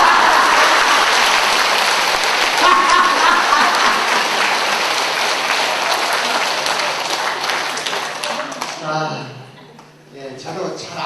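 A large audience at a laughter-therapy event at Busan's Yeongdo district office claps loudly and steadily for several seconds, then the applause thins and fades out near the end, with voices mixed in.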